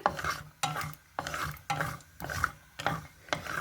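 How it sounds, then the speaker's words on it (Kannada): Cashews roast in a little oil in a pan while a spoon stirs them in regular sweeping strokes, each stroke a distinct scrape with short gaps between, about six passes, close and fairly quiet, no talking. "ಕ್ಯಾಶ್ಯೂ ಅಂದ್ರೆ ಗೋಡಂಬಿ ಹಾಕ್ತೀನಿ ನಿಮ್ಗೆ ಎಷ್ಟು ಬೇಕು ನೋಡಿ ಎಷ್ಟು ಹಾಕೋರಿ ಸೊ ಚೆನ್ನಾಗಿ ರೋಸ್ಟ್ ಮಾಡ್ತೀನಿ"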